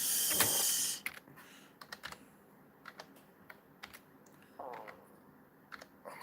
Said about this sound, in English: I'm holding the phone with one hand, typing with the other